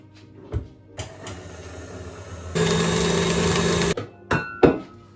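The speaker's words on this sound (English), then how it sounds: "I'm just going to add them in and back onto the mixer to mix for a final time" An electric stand mixer runs for about a second and a half, beating ground almonds into frangipane for Bakewell tarts. The steady whirring is loud and close, with a few kitchen clunks and knocks before and after it.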